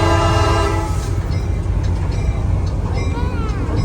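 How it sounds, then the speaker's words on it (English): A Christmas excursion train rolls back toward the station, a steady loud rumble of rail cars with a sustained horn-like tone at the start, heard close from on board. "We're going to take these train cars back to the station."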